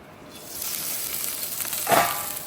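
Millet dosa batter poured onto a hot pan, a soft steady sizzle that swells to a brief louder hiss near the end, heard alone with no talking.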